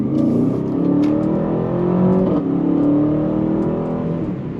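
The engine of an Aston Martin DBX 707 SUV revs and accelerates, heard from inside on country roads, a loud, steady growl rising in pitch through the gears with continuous road rumble underneath.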